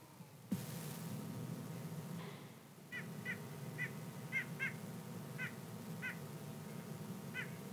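Recorded call of a male white-breasted nuthatch, a series of short nasal notes repeated at uneven intervals, faint and fairly distant over a low steady background hum.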